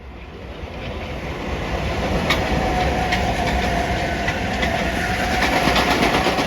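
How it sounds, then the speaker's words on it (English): A Harlem, Hudson and New Haven line commuter train passes, its rolling rumble and clickety-clack of wheels building from moderate to loud and holding steady, with squeals and rattles over the top and no talk. "Here comes the train."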